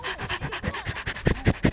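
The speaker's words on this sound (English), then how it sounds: "I was hearing your rapid breathing" Fast, rhythmic panting breaths in an Overwatch match, a steady run of short, loud huffs close to the mic that swell stronger toward the end.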